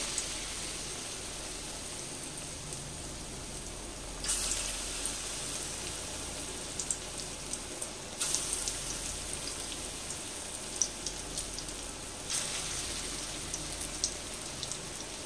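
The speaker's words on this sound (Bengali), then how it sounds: "দিয়ে এগুলোকে আমি হাতের সাহায্যে এরকম করে চ্যাপটা করে নিচ্ছি, দিয়ে তেলের মধ্যে দিয়ে ভেজে নেব" Flattened raw banana tikki fry in hot oil with a constant hissing crackle, soft and even, and a few brighter bursts of spatter at intervals, with no voices.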